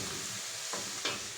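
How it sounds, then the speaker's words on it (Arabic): Onions and other ingredients sauté in a pan with a chili harissa paste, for a green fava bean koshari, with a steady sizzle and a couple of scraping stirs standing out. "اشوحهم كده مع بعض"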